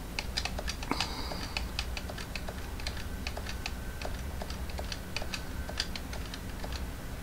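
Computer keyboard keys being pressed repeatedly to enter the BIOS on a newly built desktop PC with a Ryzen 5600X CPU and ASRock B550 motherboard; a steady stream of close, crisp clicks taps on at an irregular typing rhythm, with no talk.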